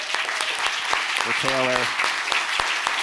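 An audience at a new-beverage pitch showdown semifinal gives a sustained round of applause, crowd clapping filling the space while a voice briefly speaks over it.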